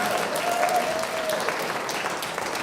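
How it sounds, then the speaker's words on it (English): Audience applause fills a church, a steady, dense patter of clapping from many hands that stays even and fairly close throughout. "Yes, that deserves applause."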